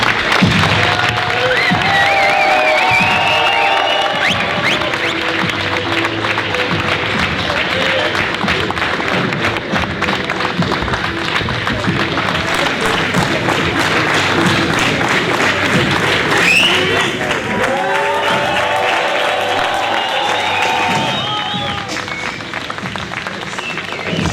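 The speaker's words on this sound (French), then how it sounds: "Donc je vous demande d'applaudir le président de Boulevard" A crowd at the first meeting of the Belgian political movement Debout Les Belges claps and cheers loudly for its president, Laurent Louis. Shouts and whistles rise over the sustained applause, which eases slightly near the end.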